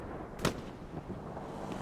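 A field cannon fires once in a Tobruk World War II tank battle game, a single sharp distant boom standing out over a low, steady battle rumble.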